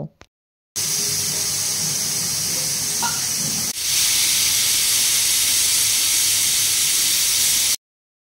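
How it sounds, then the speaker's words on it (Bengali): A pressure cooker cooking goat meat on high flame lets out a loud, continuous hissing jet of steam for several seconds, strong and close, then cuts off abruptly into silence. "প্রেসার কুকারের ঢাকনা আটকে গ্যাসের ফ্লেম হাইতে দিয়ে আরও 2টো সিটি দিয়ে নেব"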